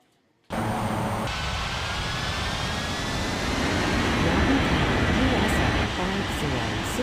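Jet airliner taking off from runway 36 in an air traffic control game, a steady loud engine roar that starts abruptly and holds with a faint rising whine, with a voice talking over it.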